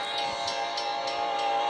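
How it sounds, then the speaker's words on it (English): Union Pacific intermodal freight train rolls by, a steady, fairly loud rumble with faint rhythmic clicks of wheels over rail joints, with no voices. "Another Union Pacific train"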